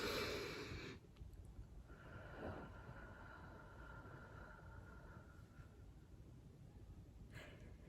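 A single deep, breathy inhale that fills the abdomen opens the clip, followed by near-silence with faint room hiss.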